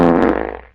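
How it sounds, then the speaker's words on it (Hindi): A loud, drawn-out fart from a Bhojpuri comedy sketch, a single continuous buzzing blast that fades and sputters toward the end, with no voices over it. "ऐसा सड़ेला पादत रे"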